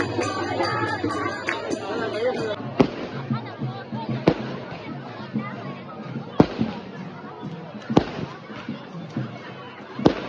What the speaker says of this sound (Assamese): এনেকৈ ফটকা বোম মাৰি পেলাই দৌলটো আৰম্ভণি কৰে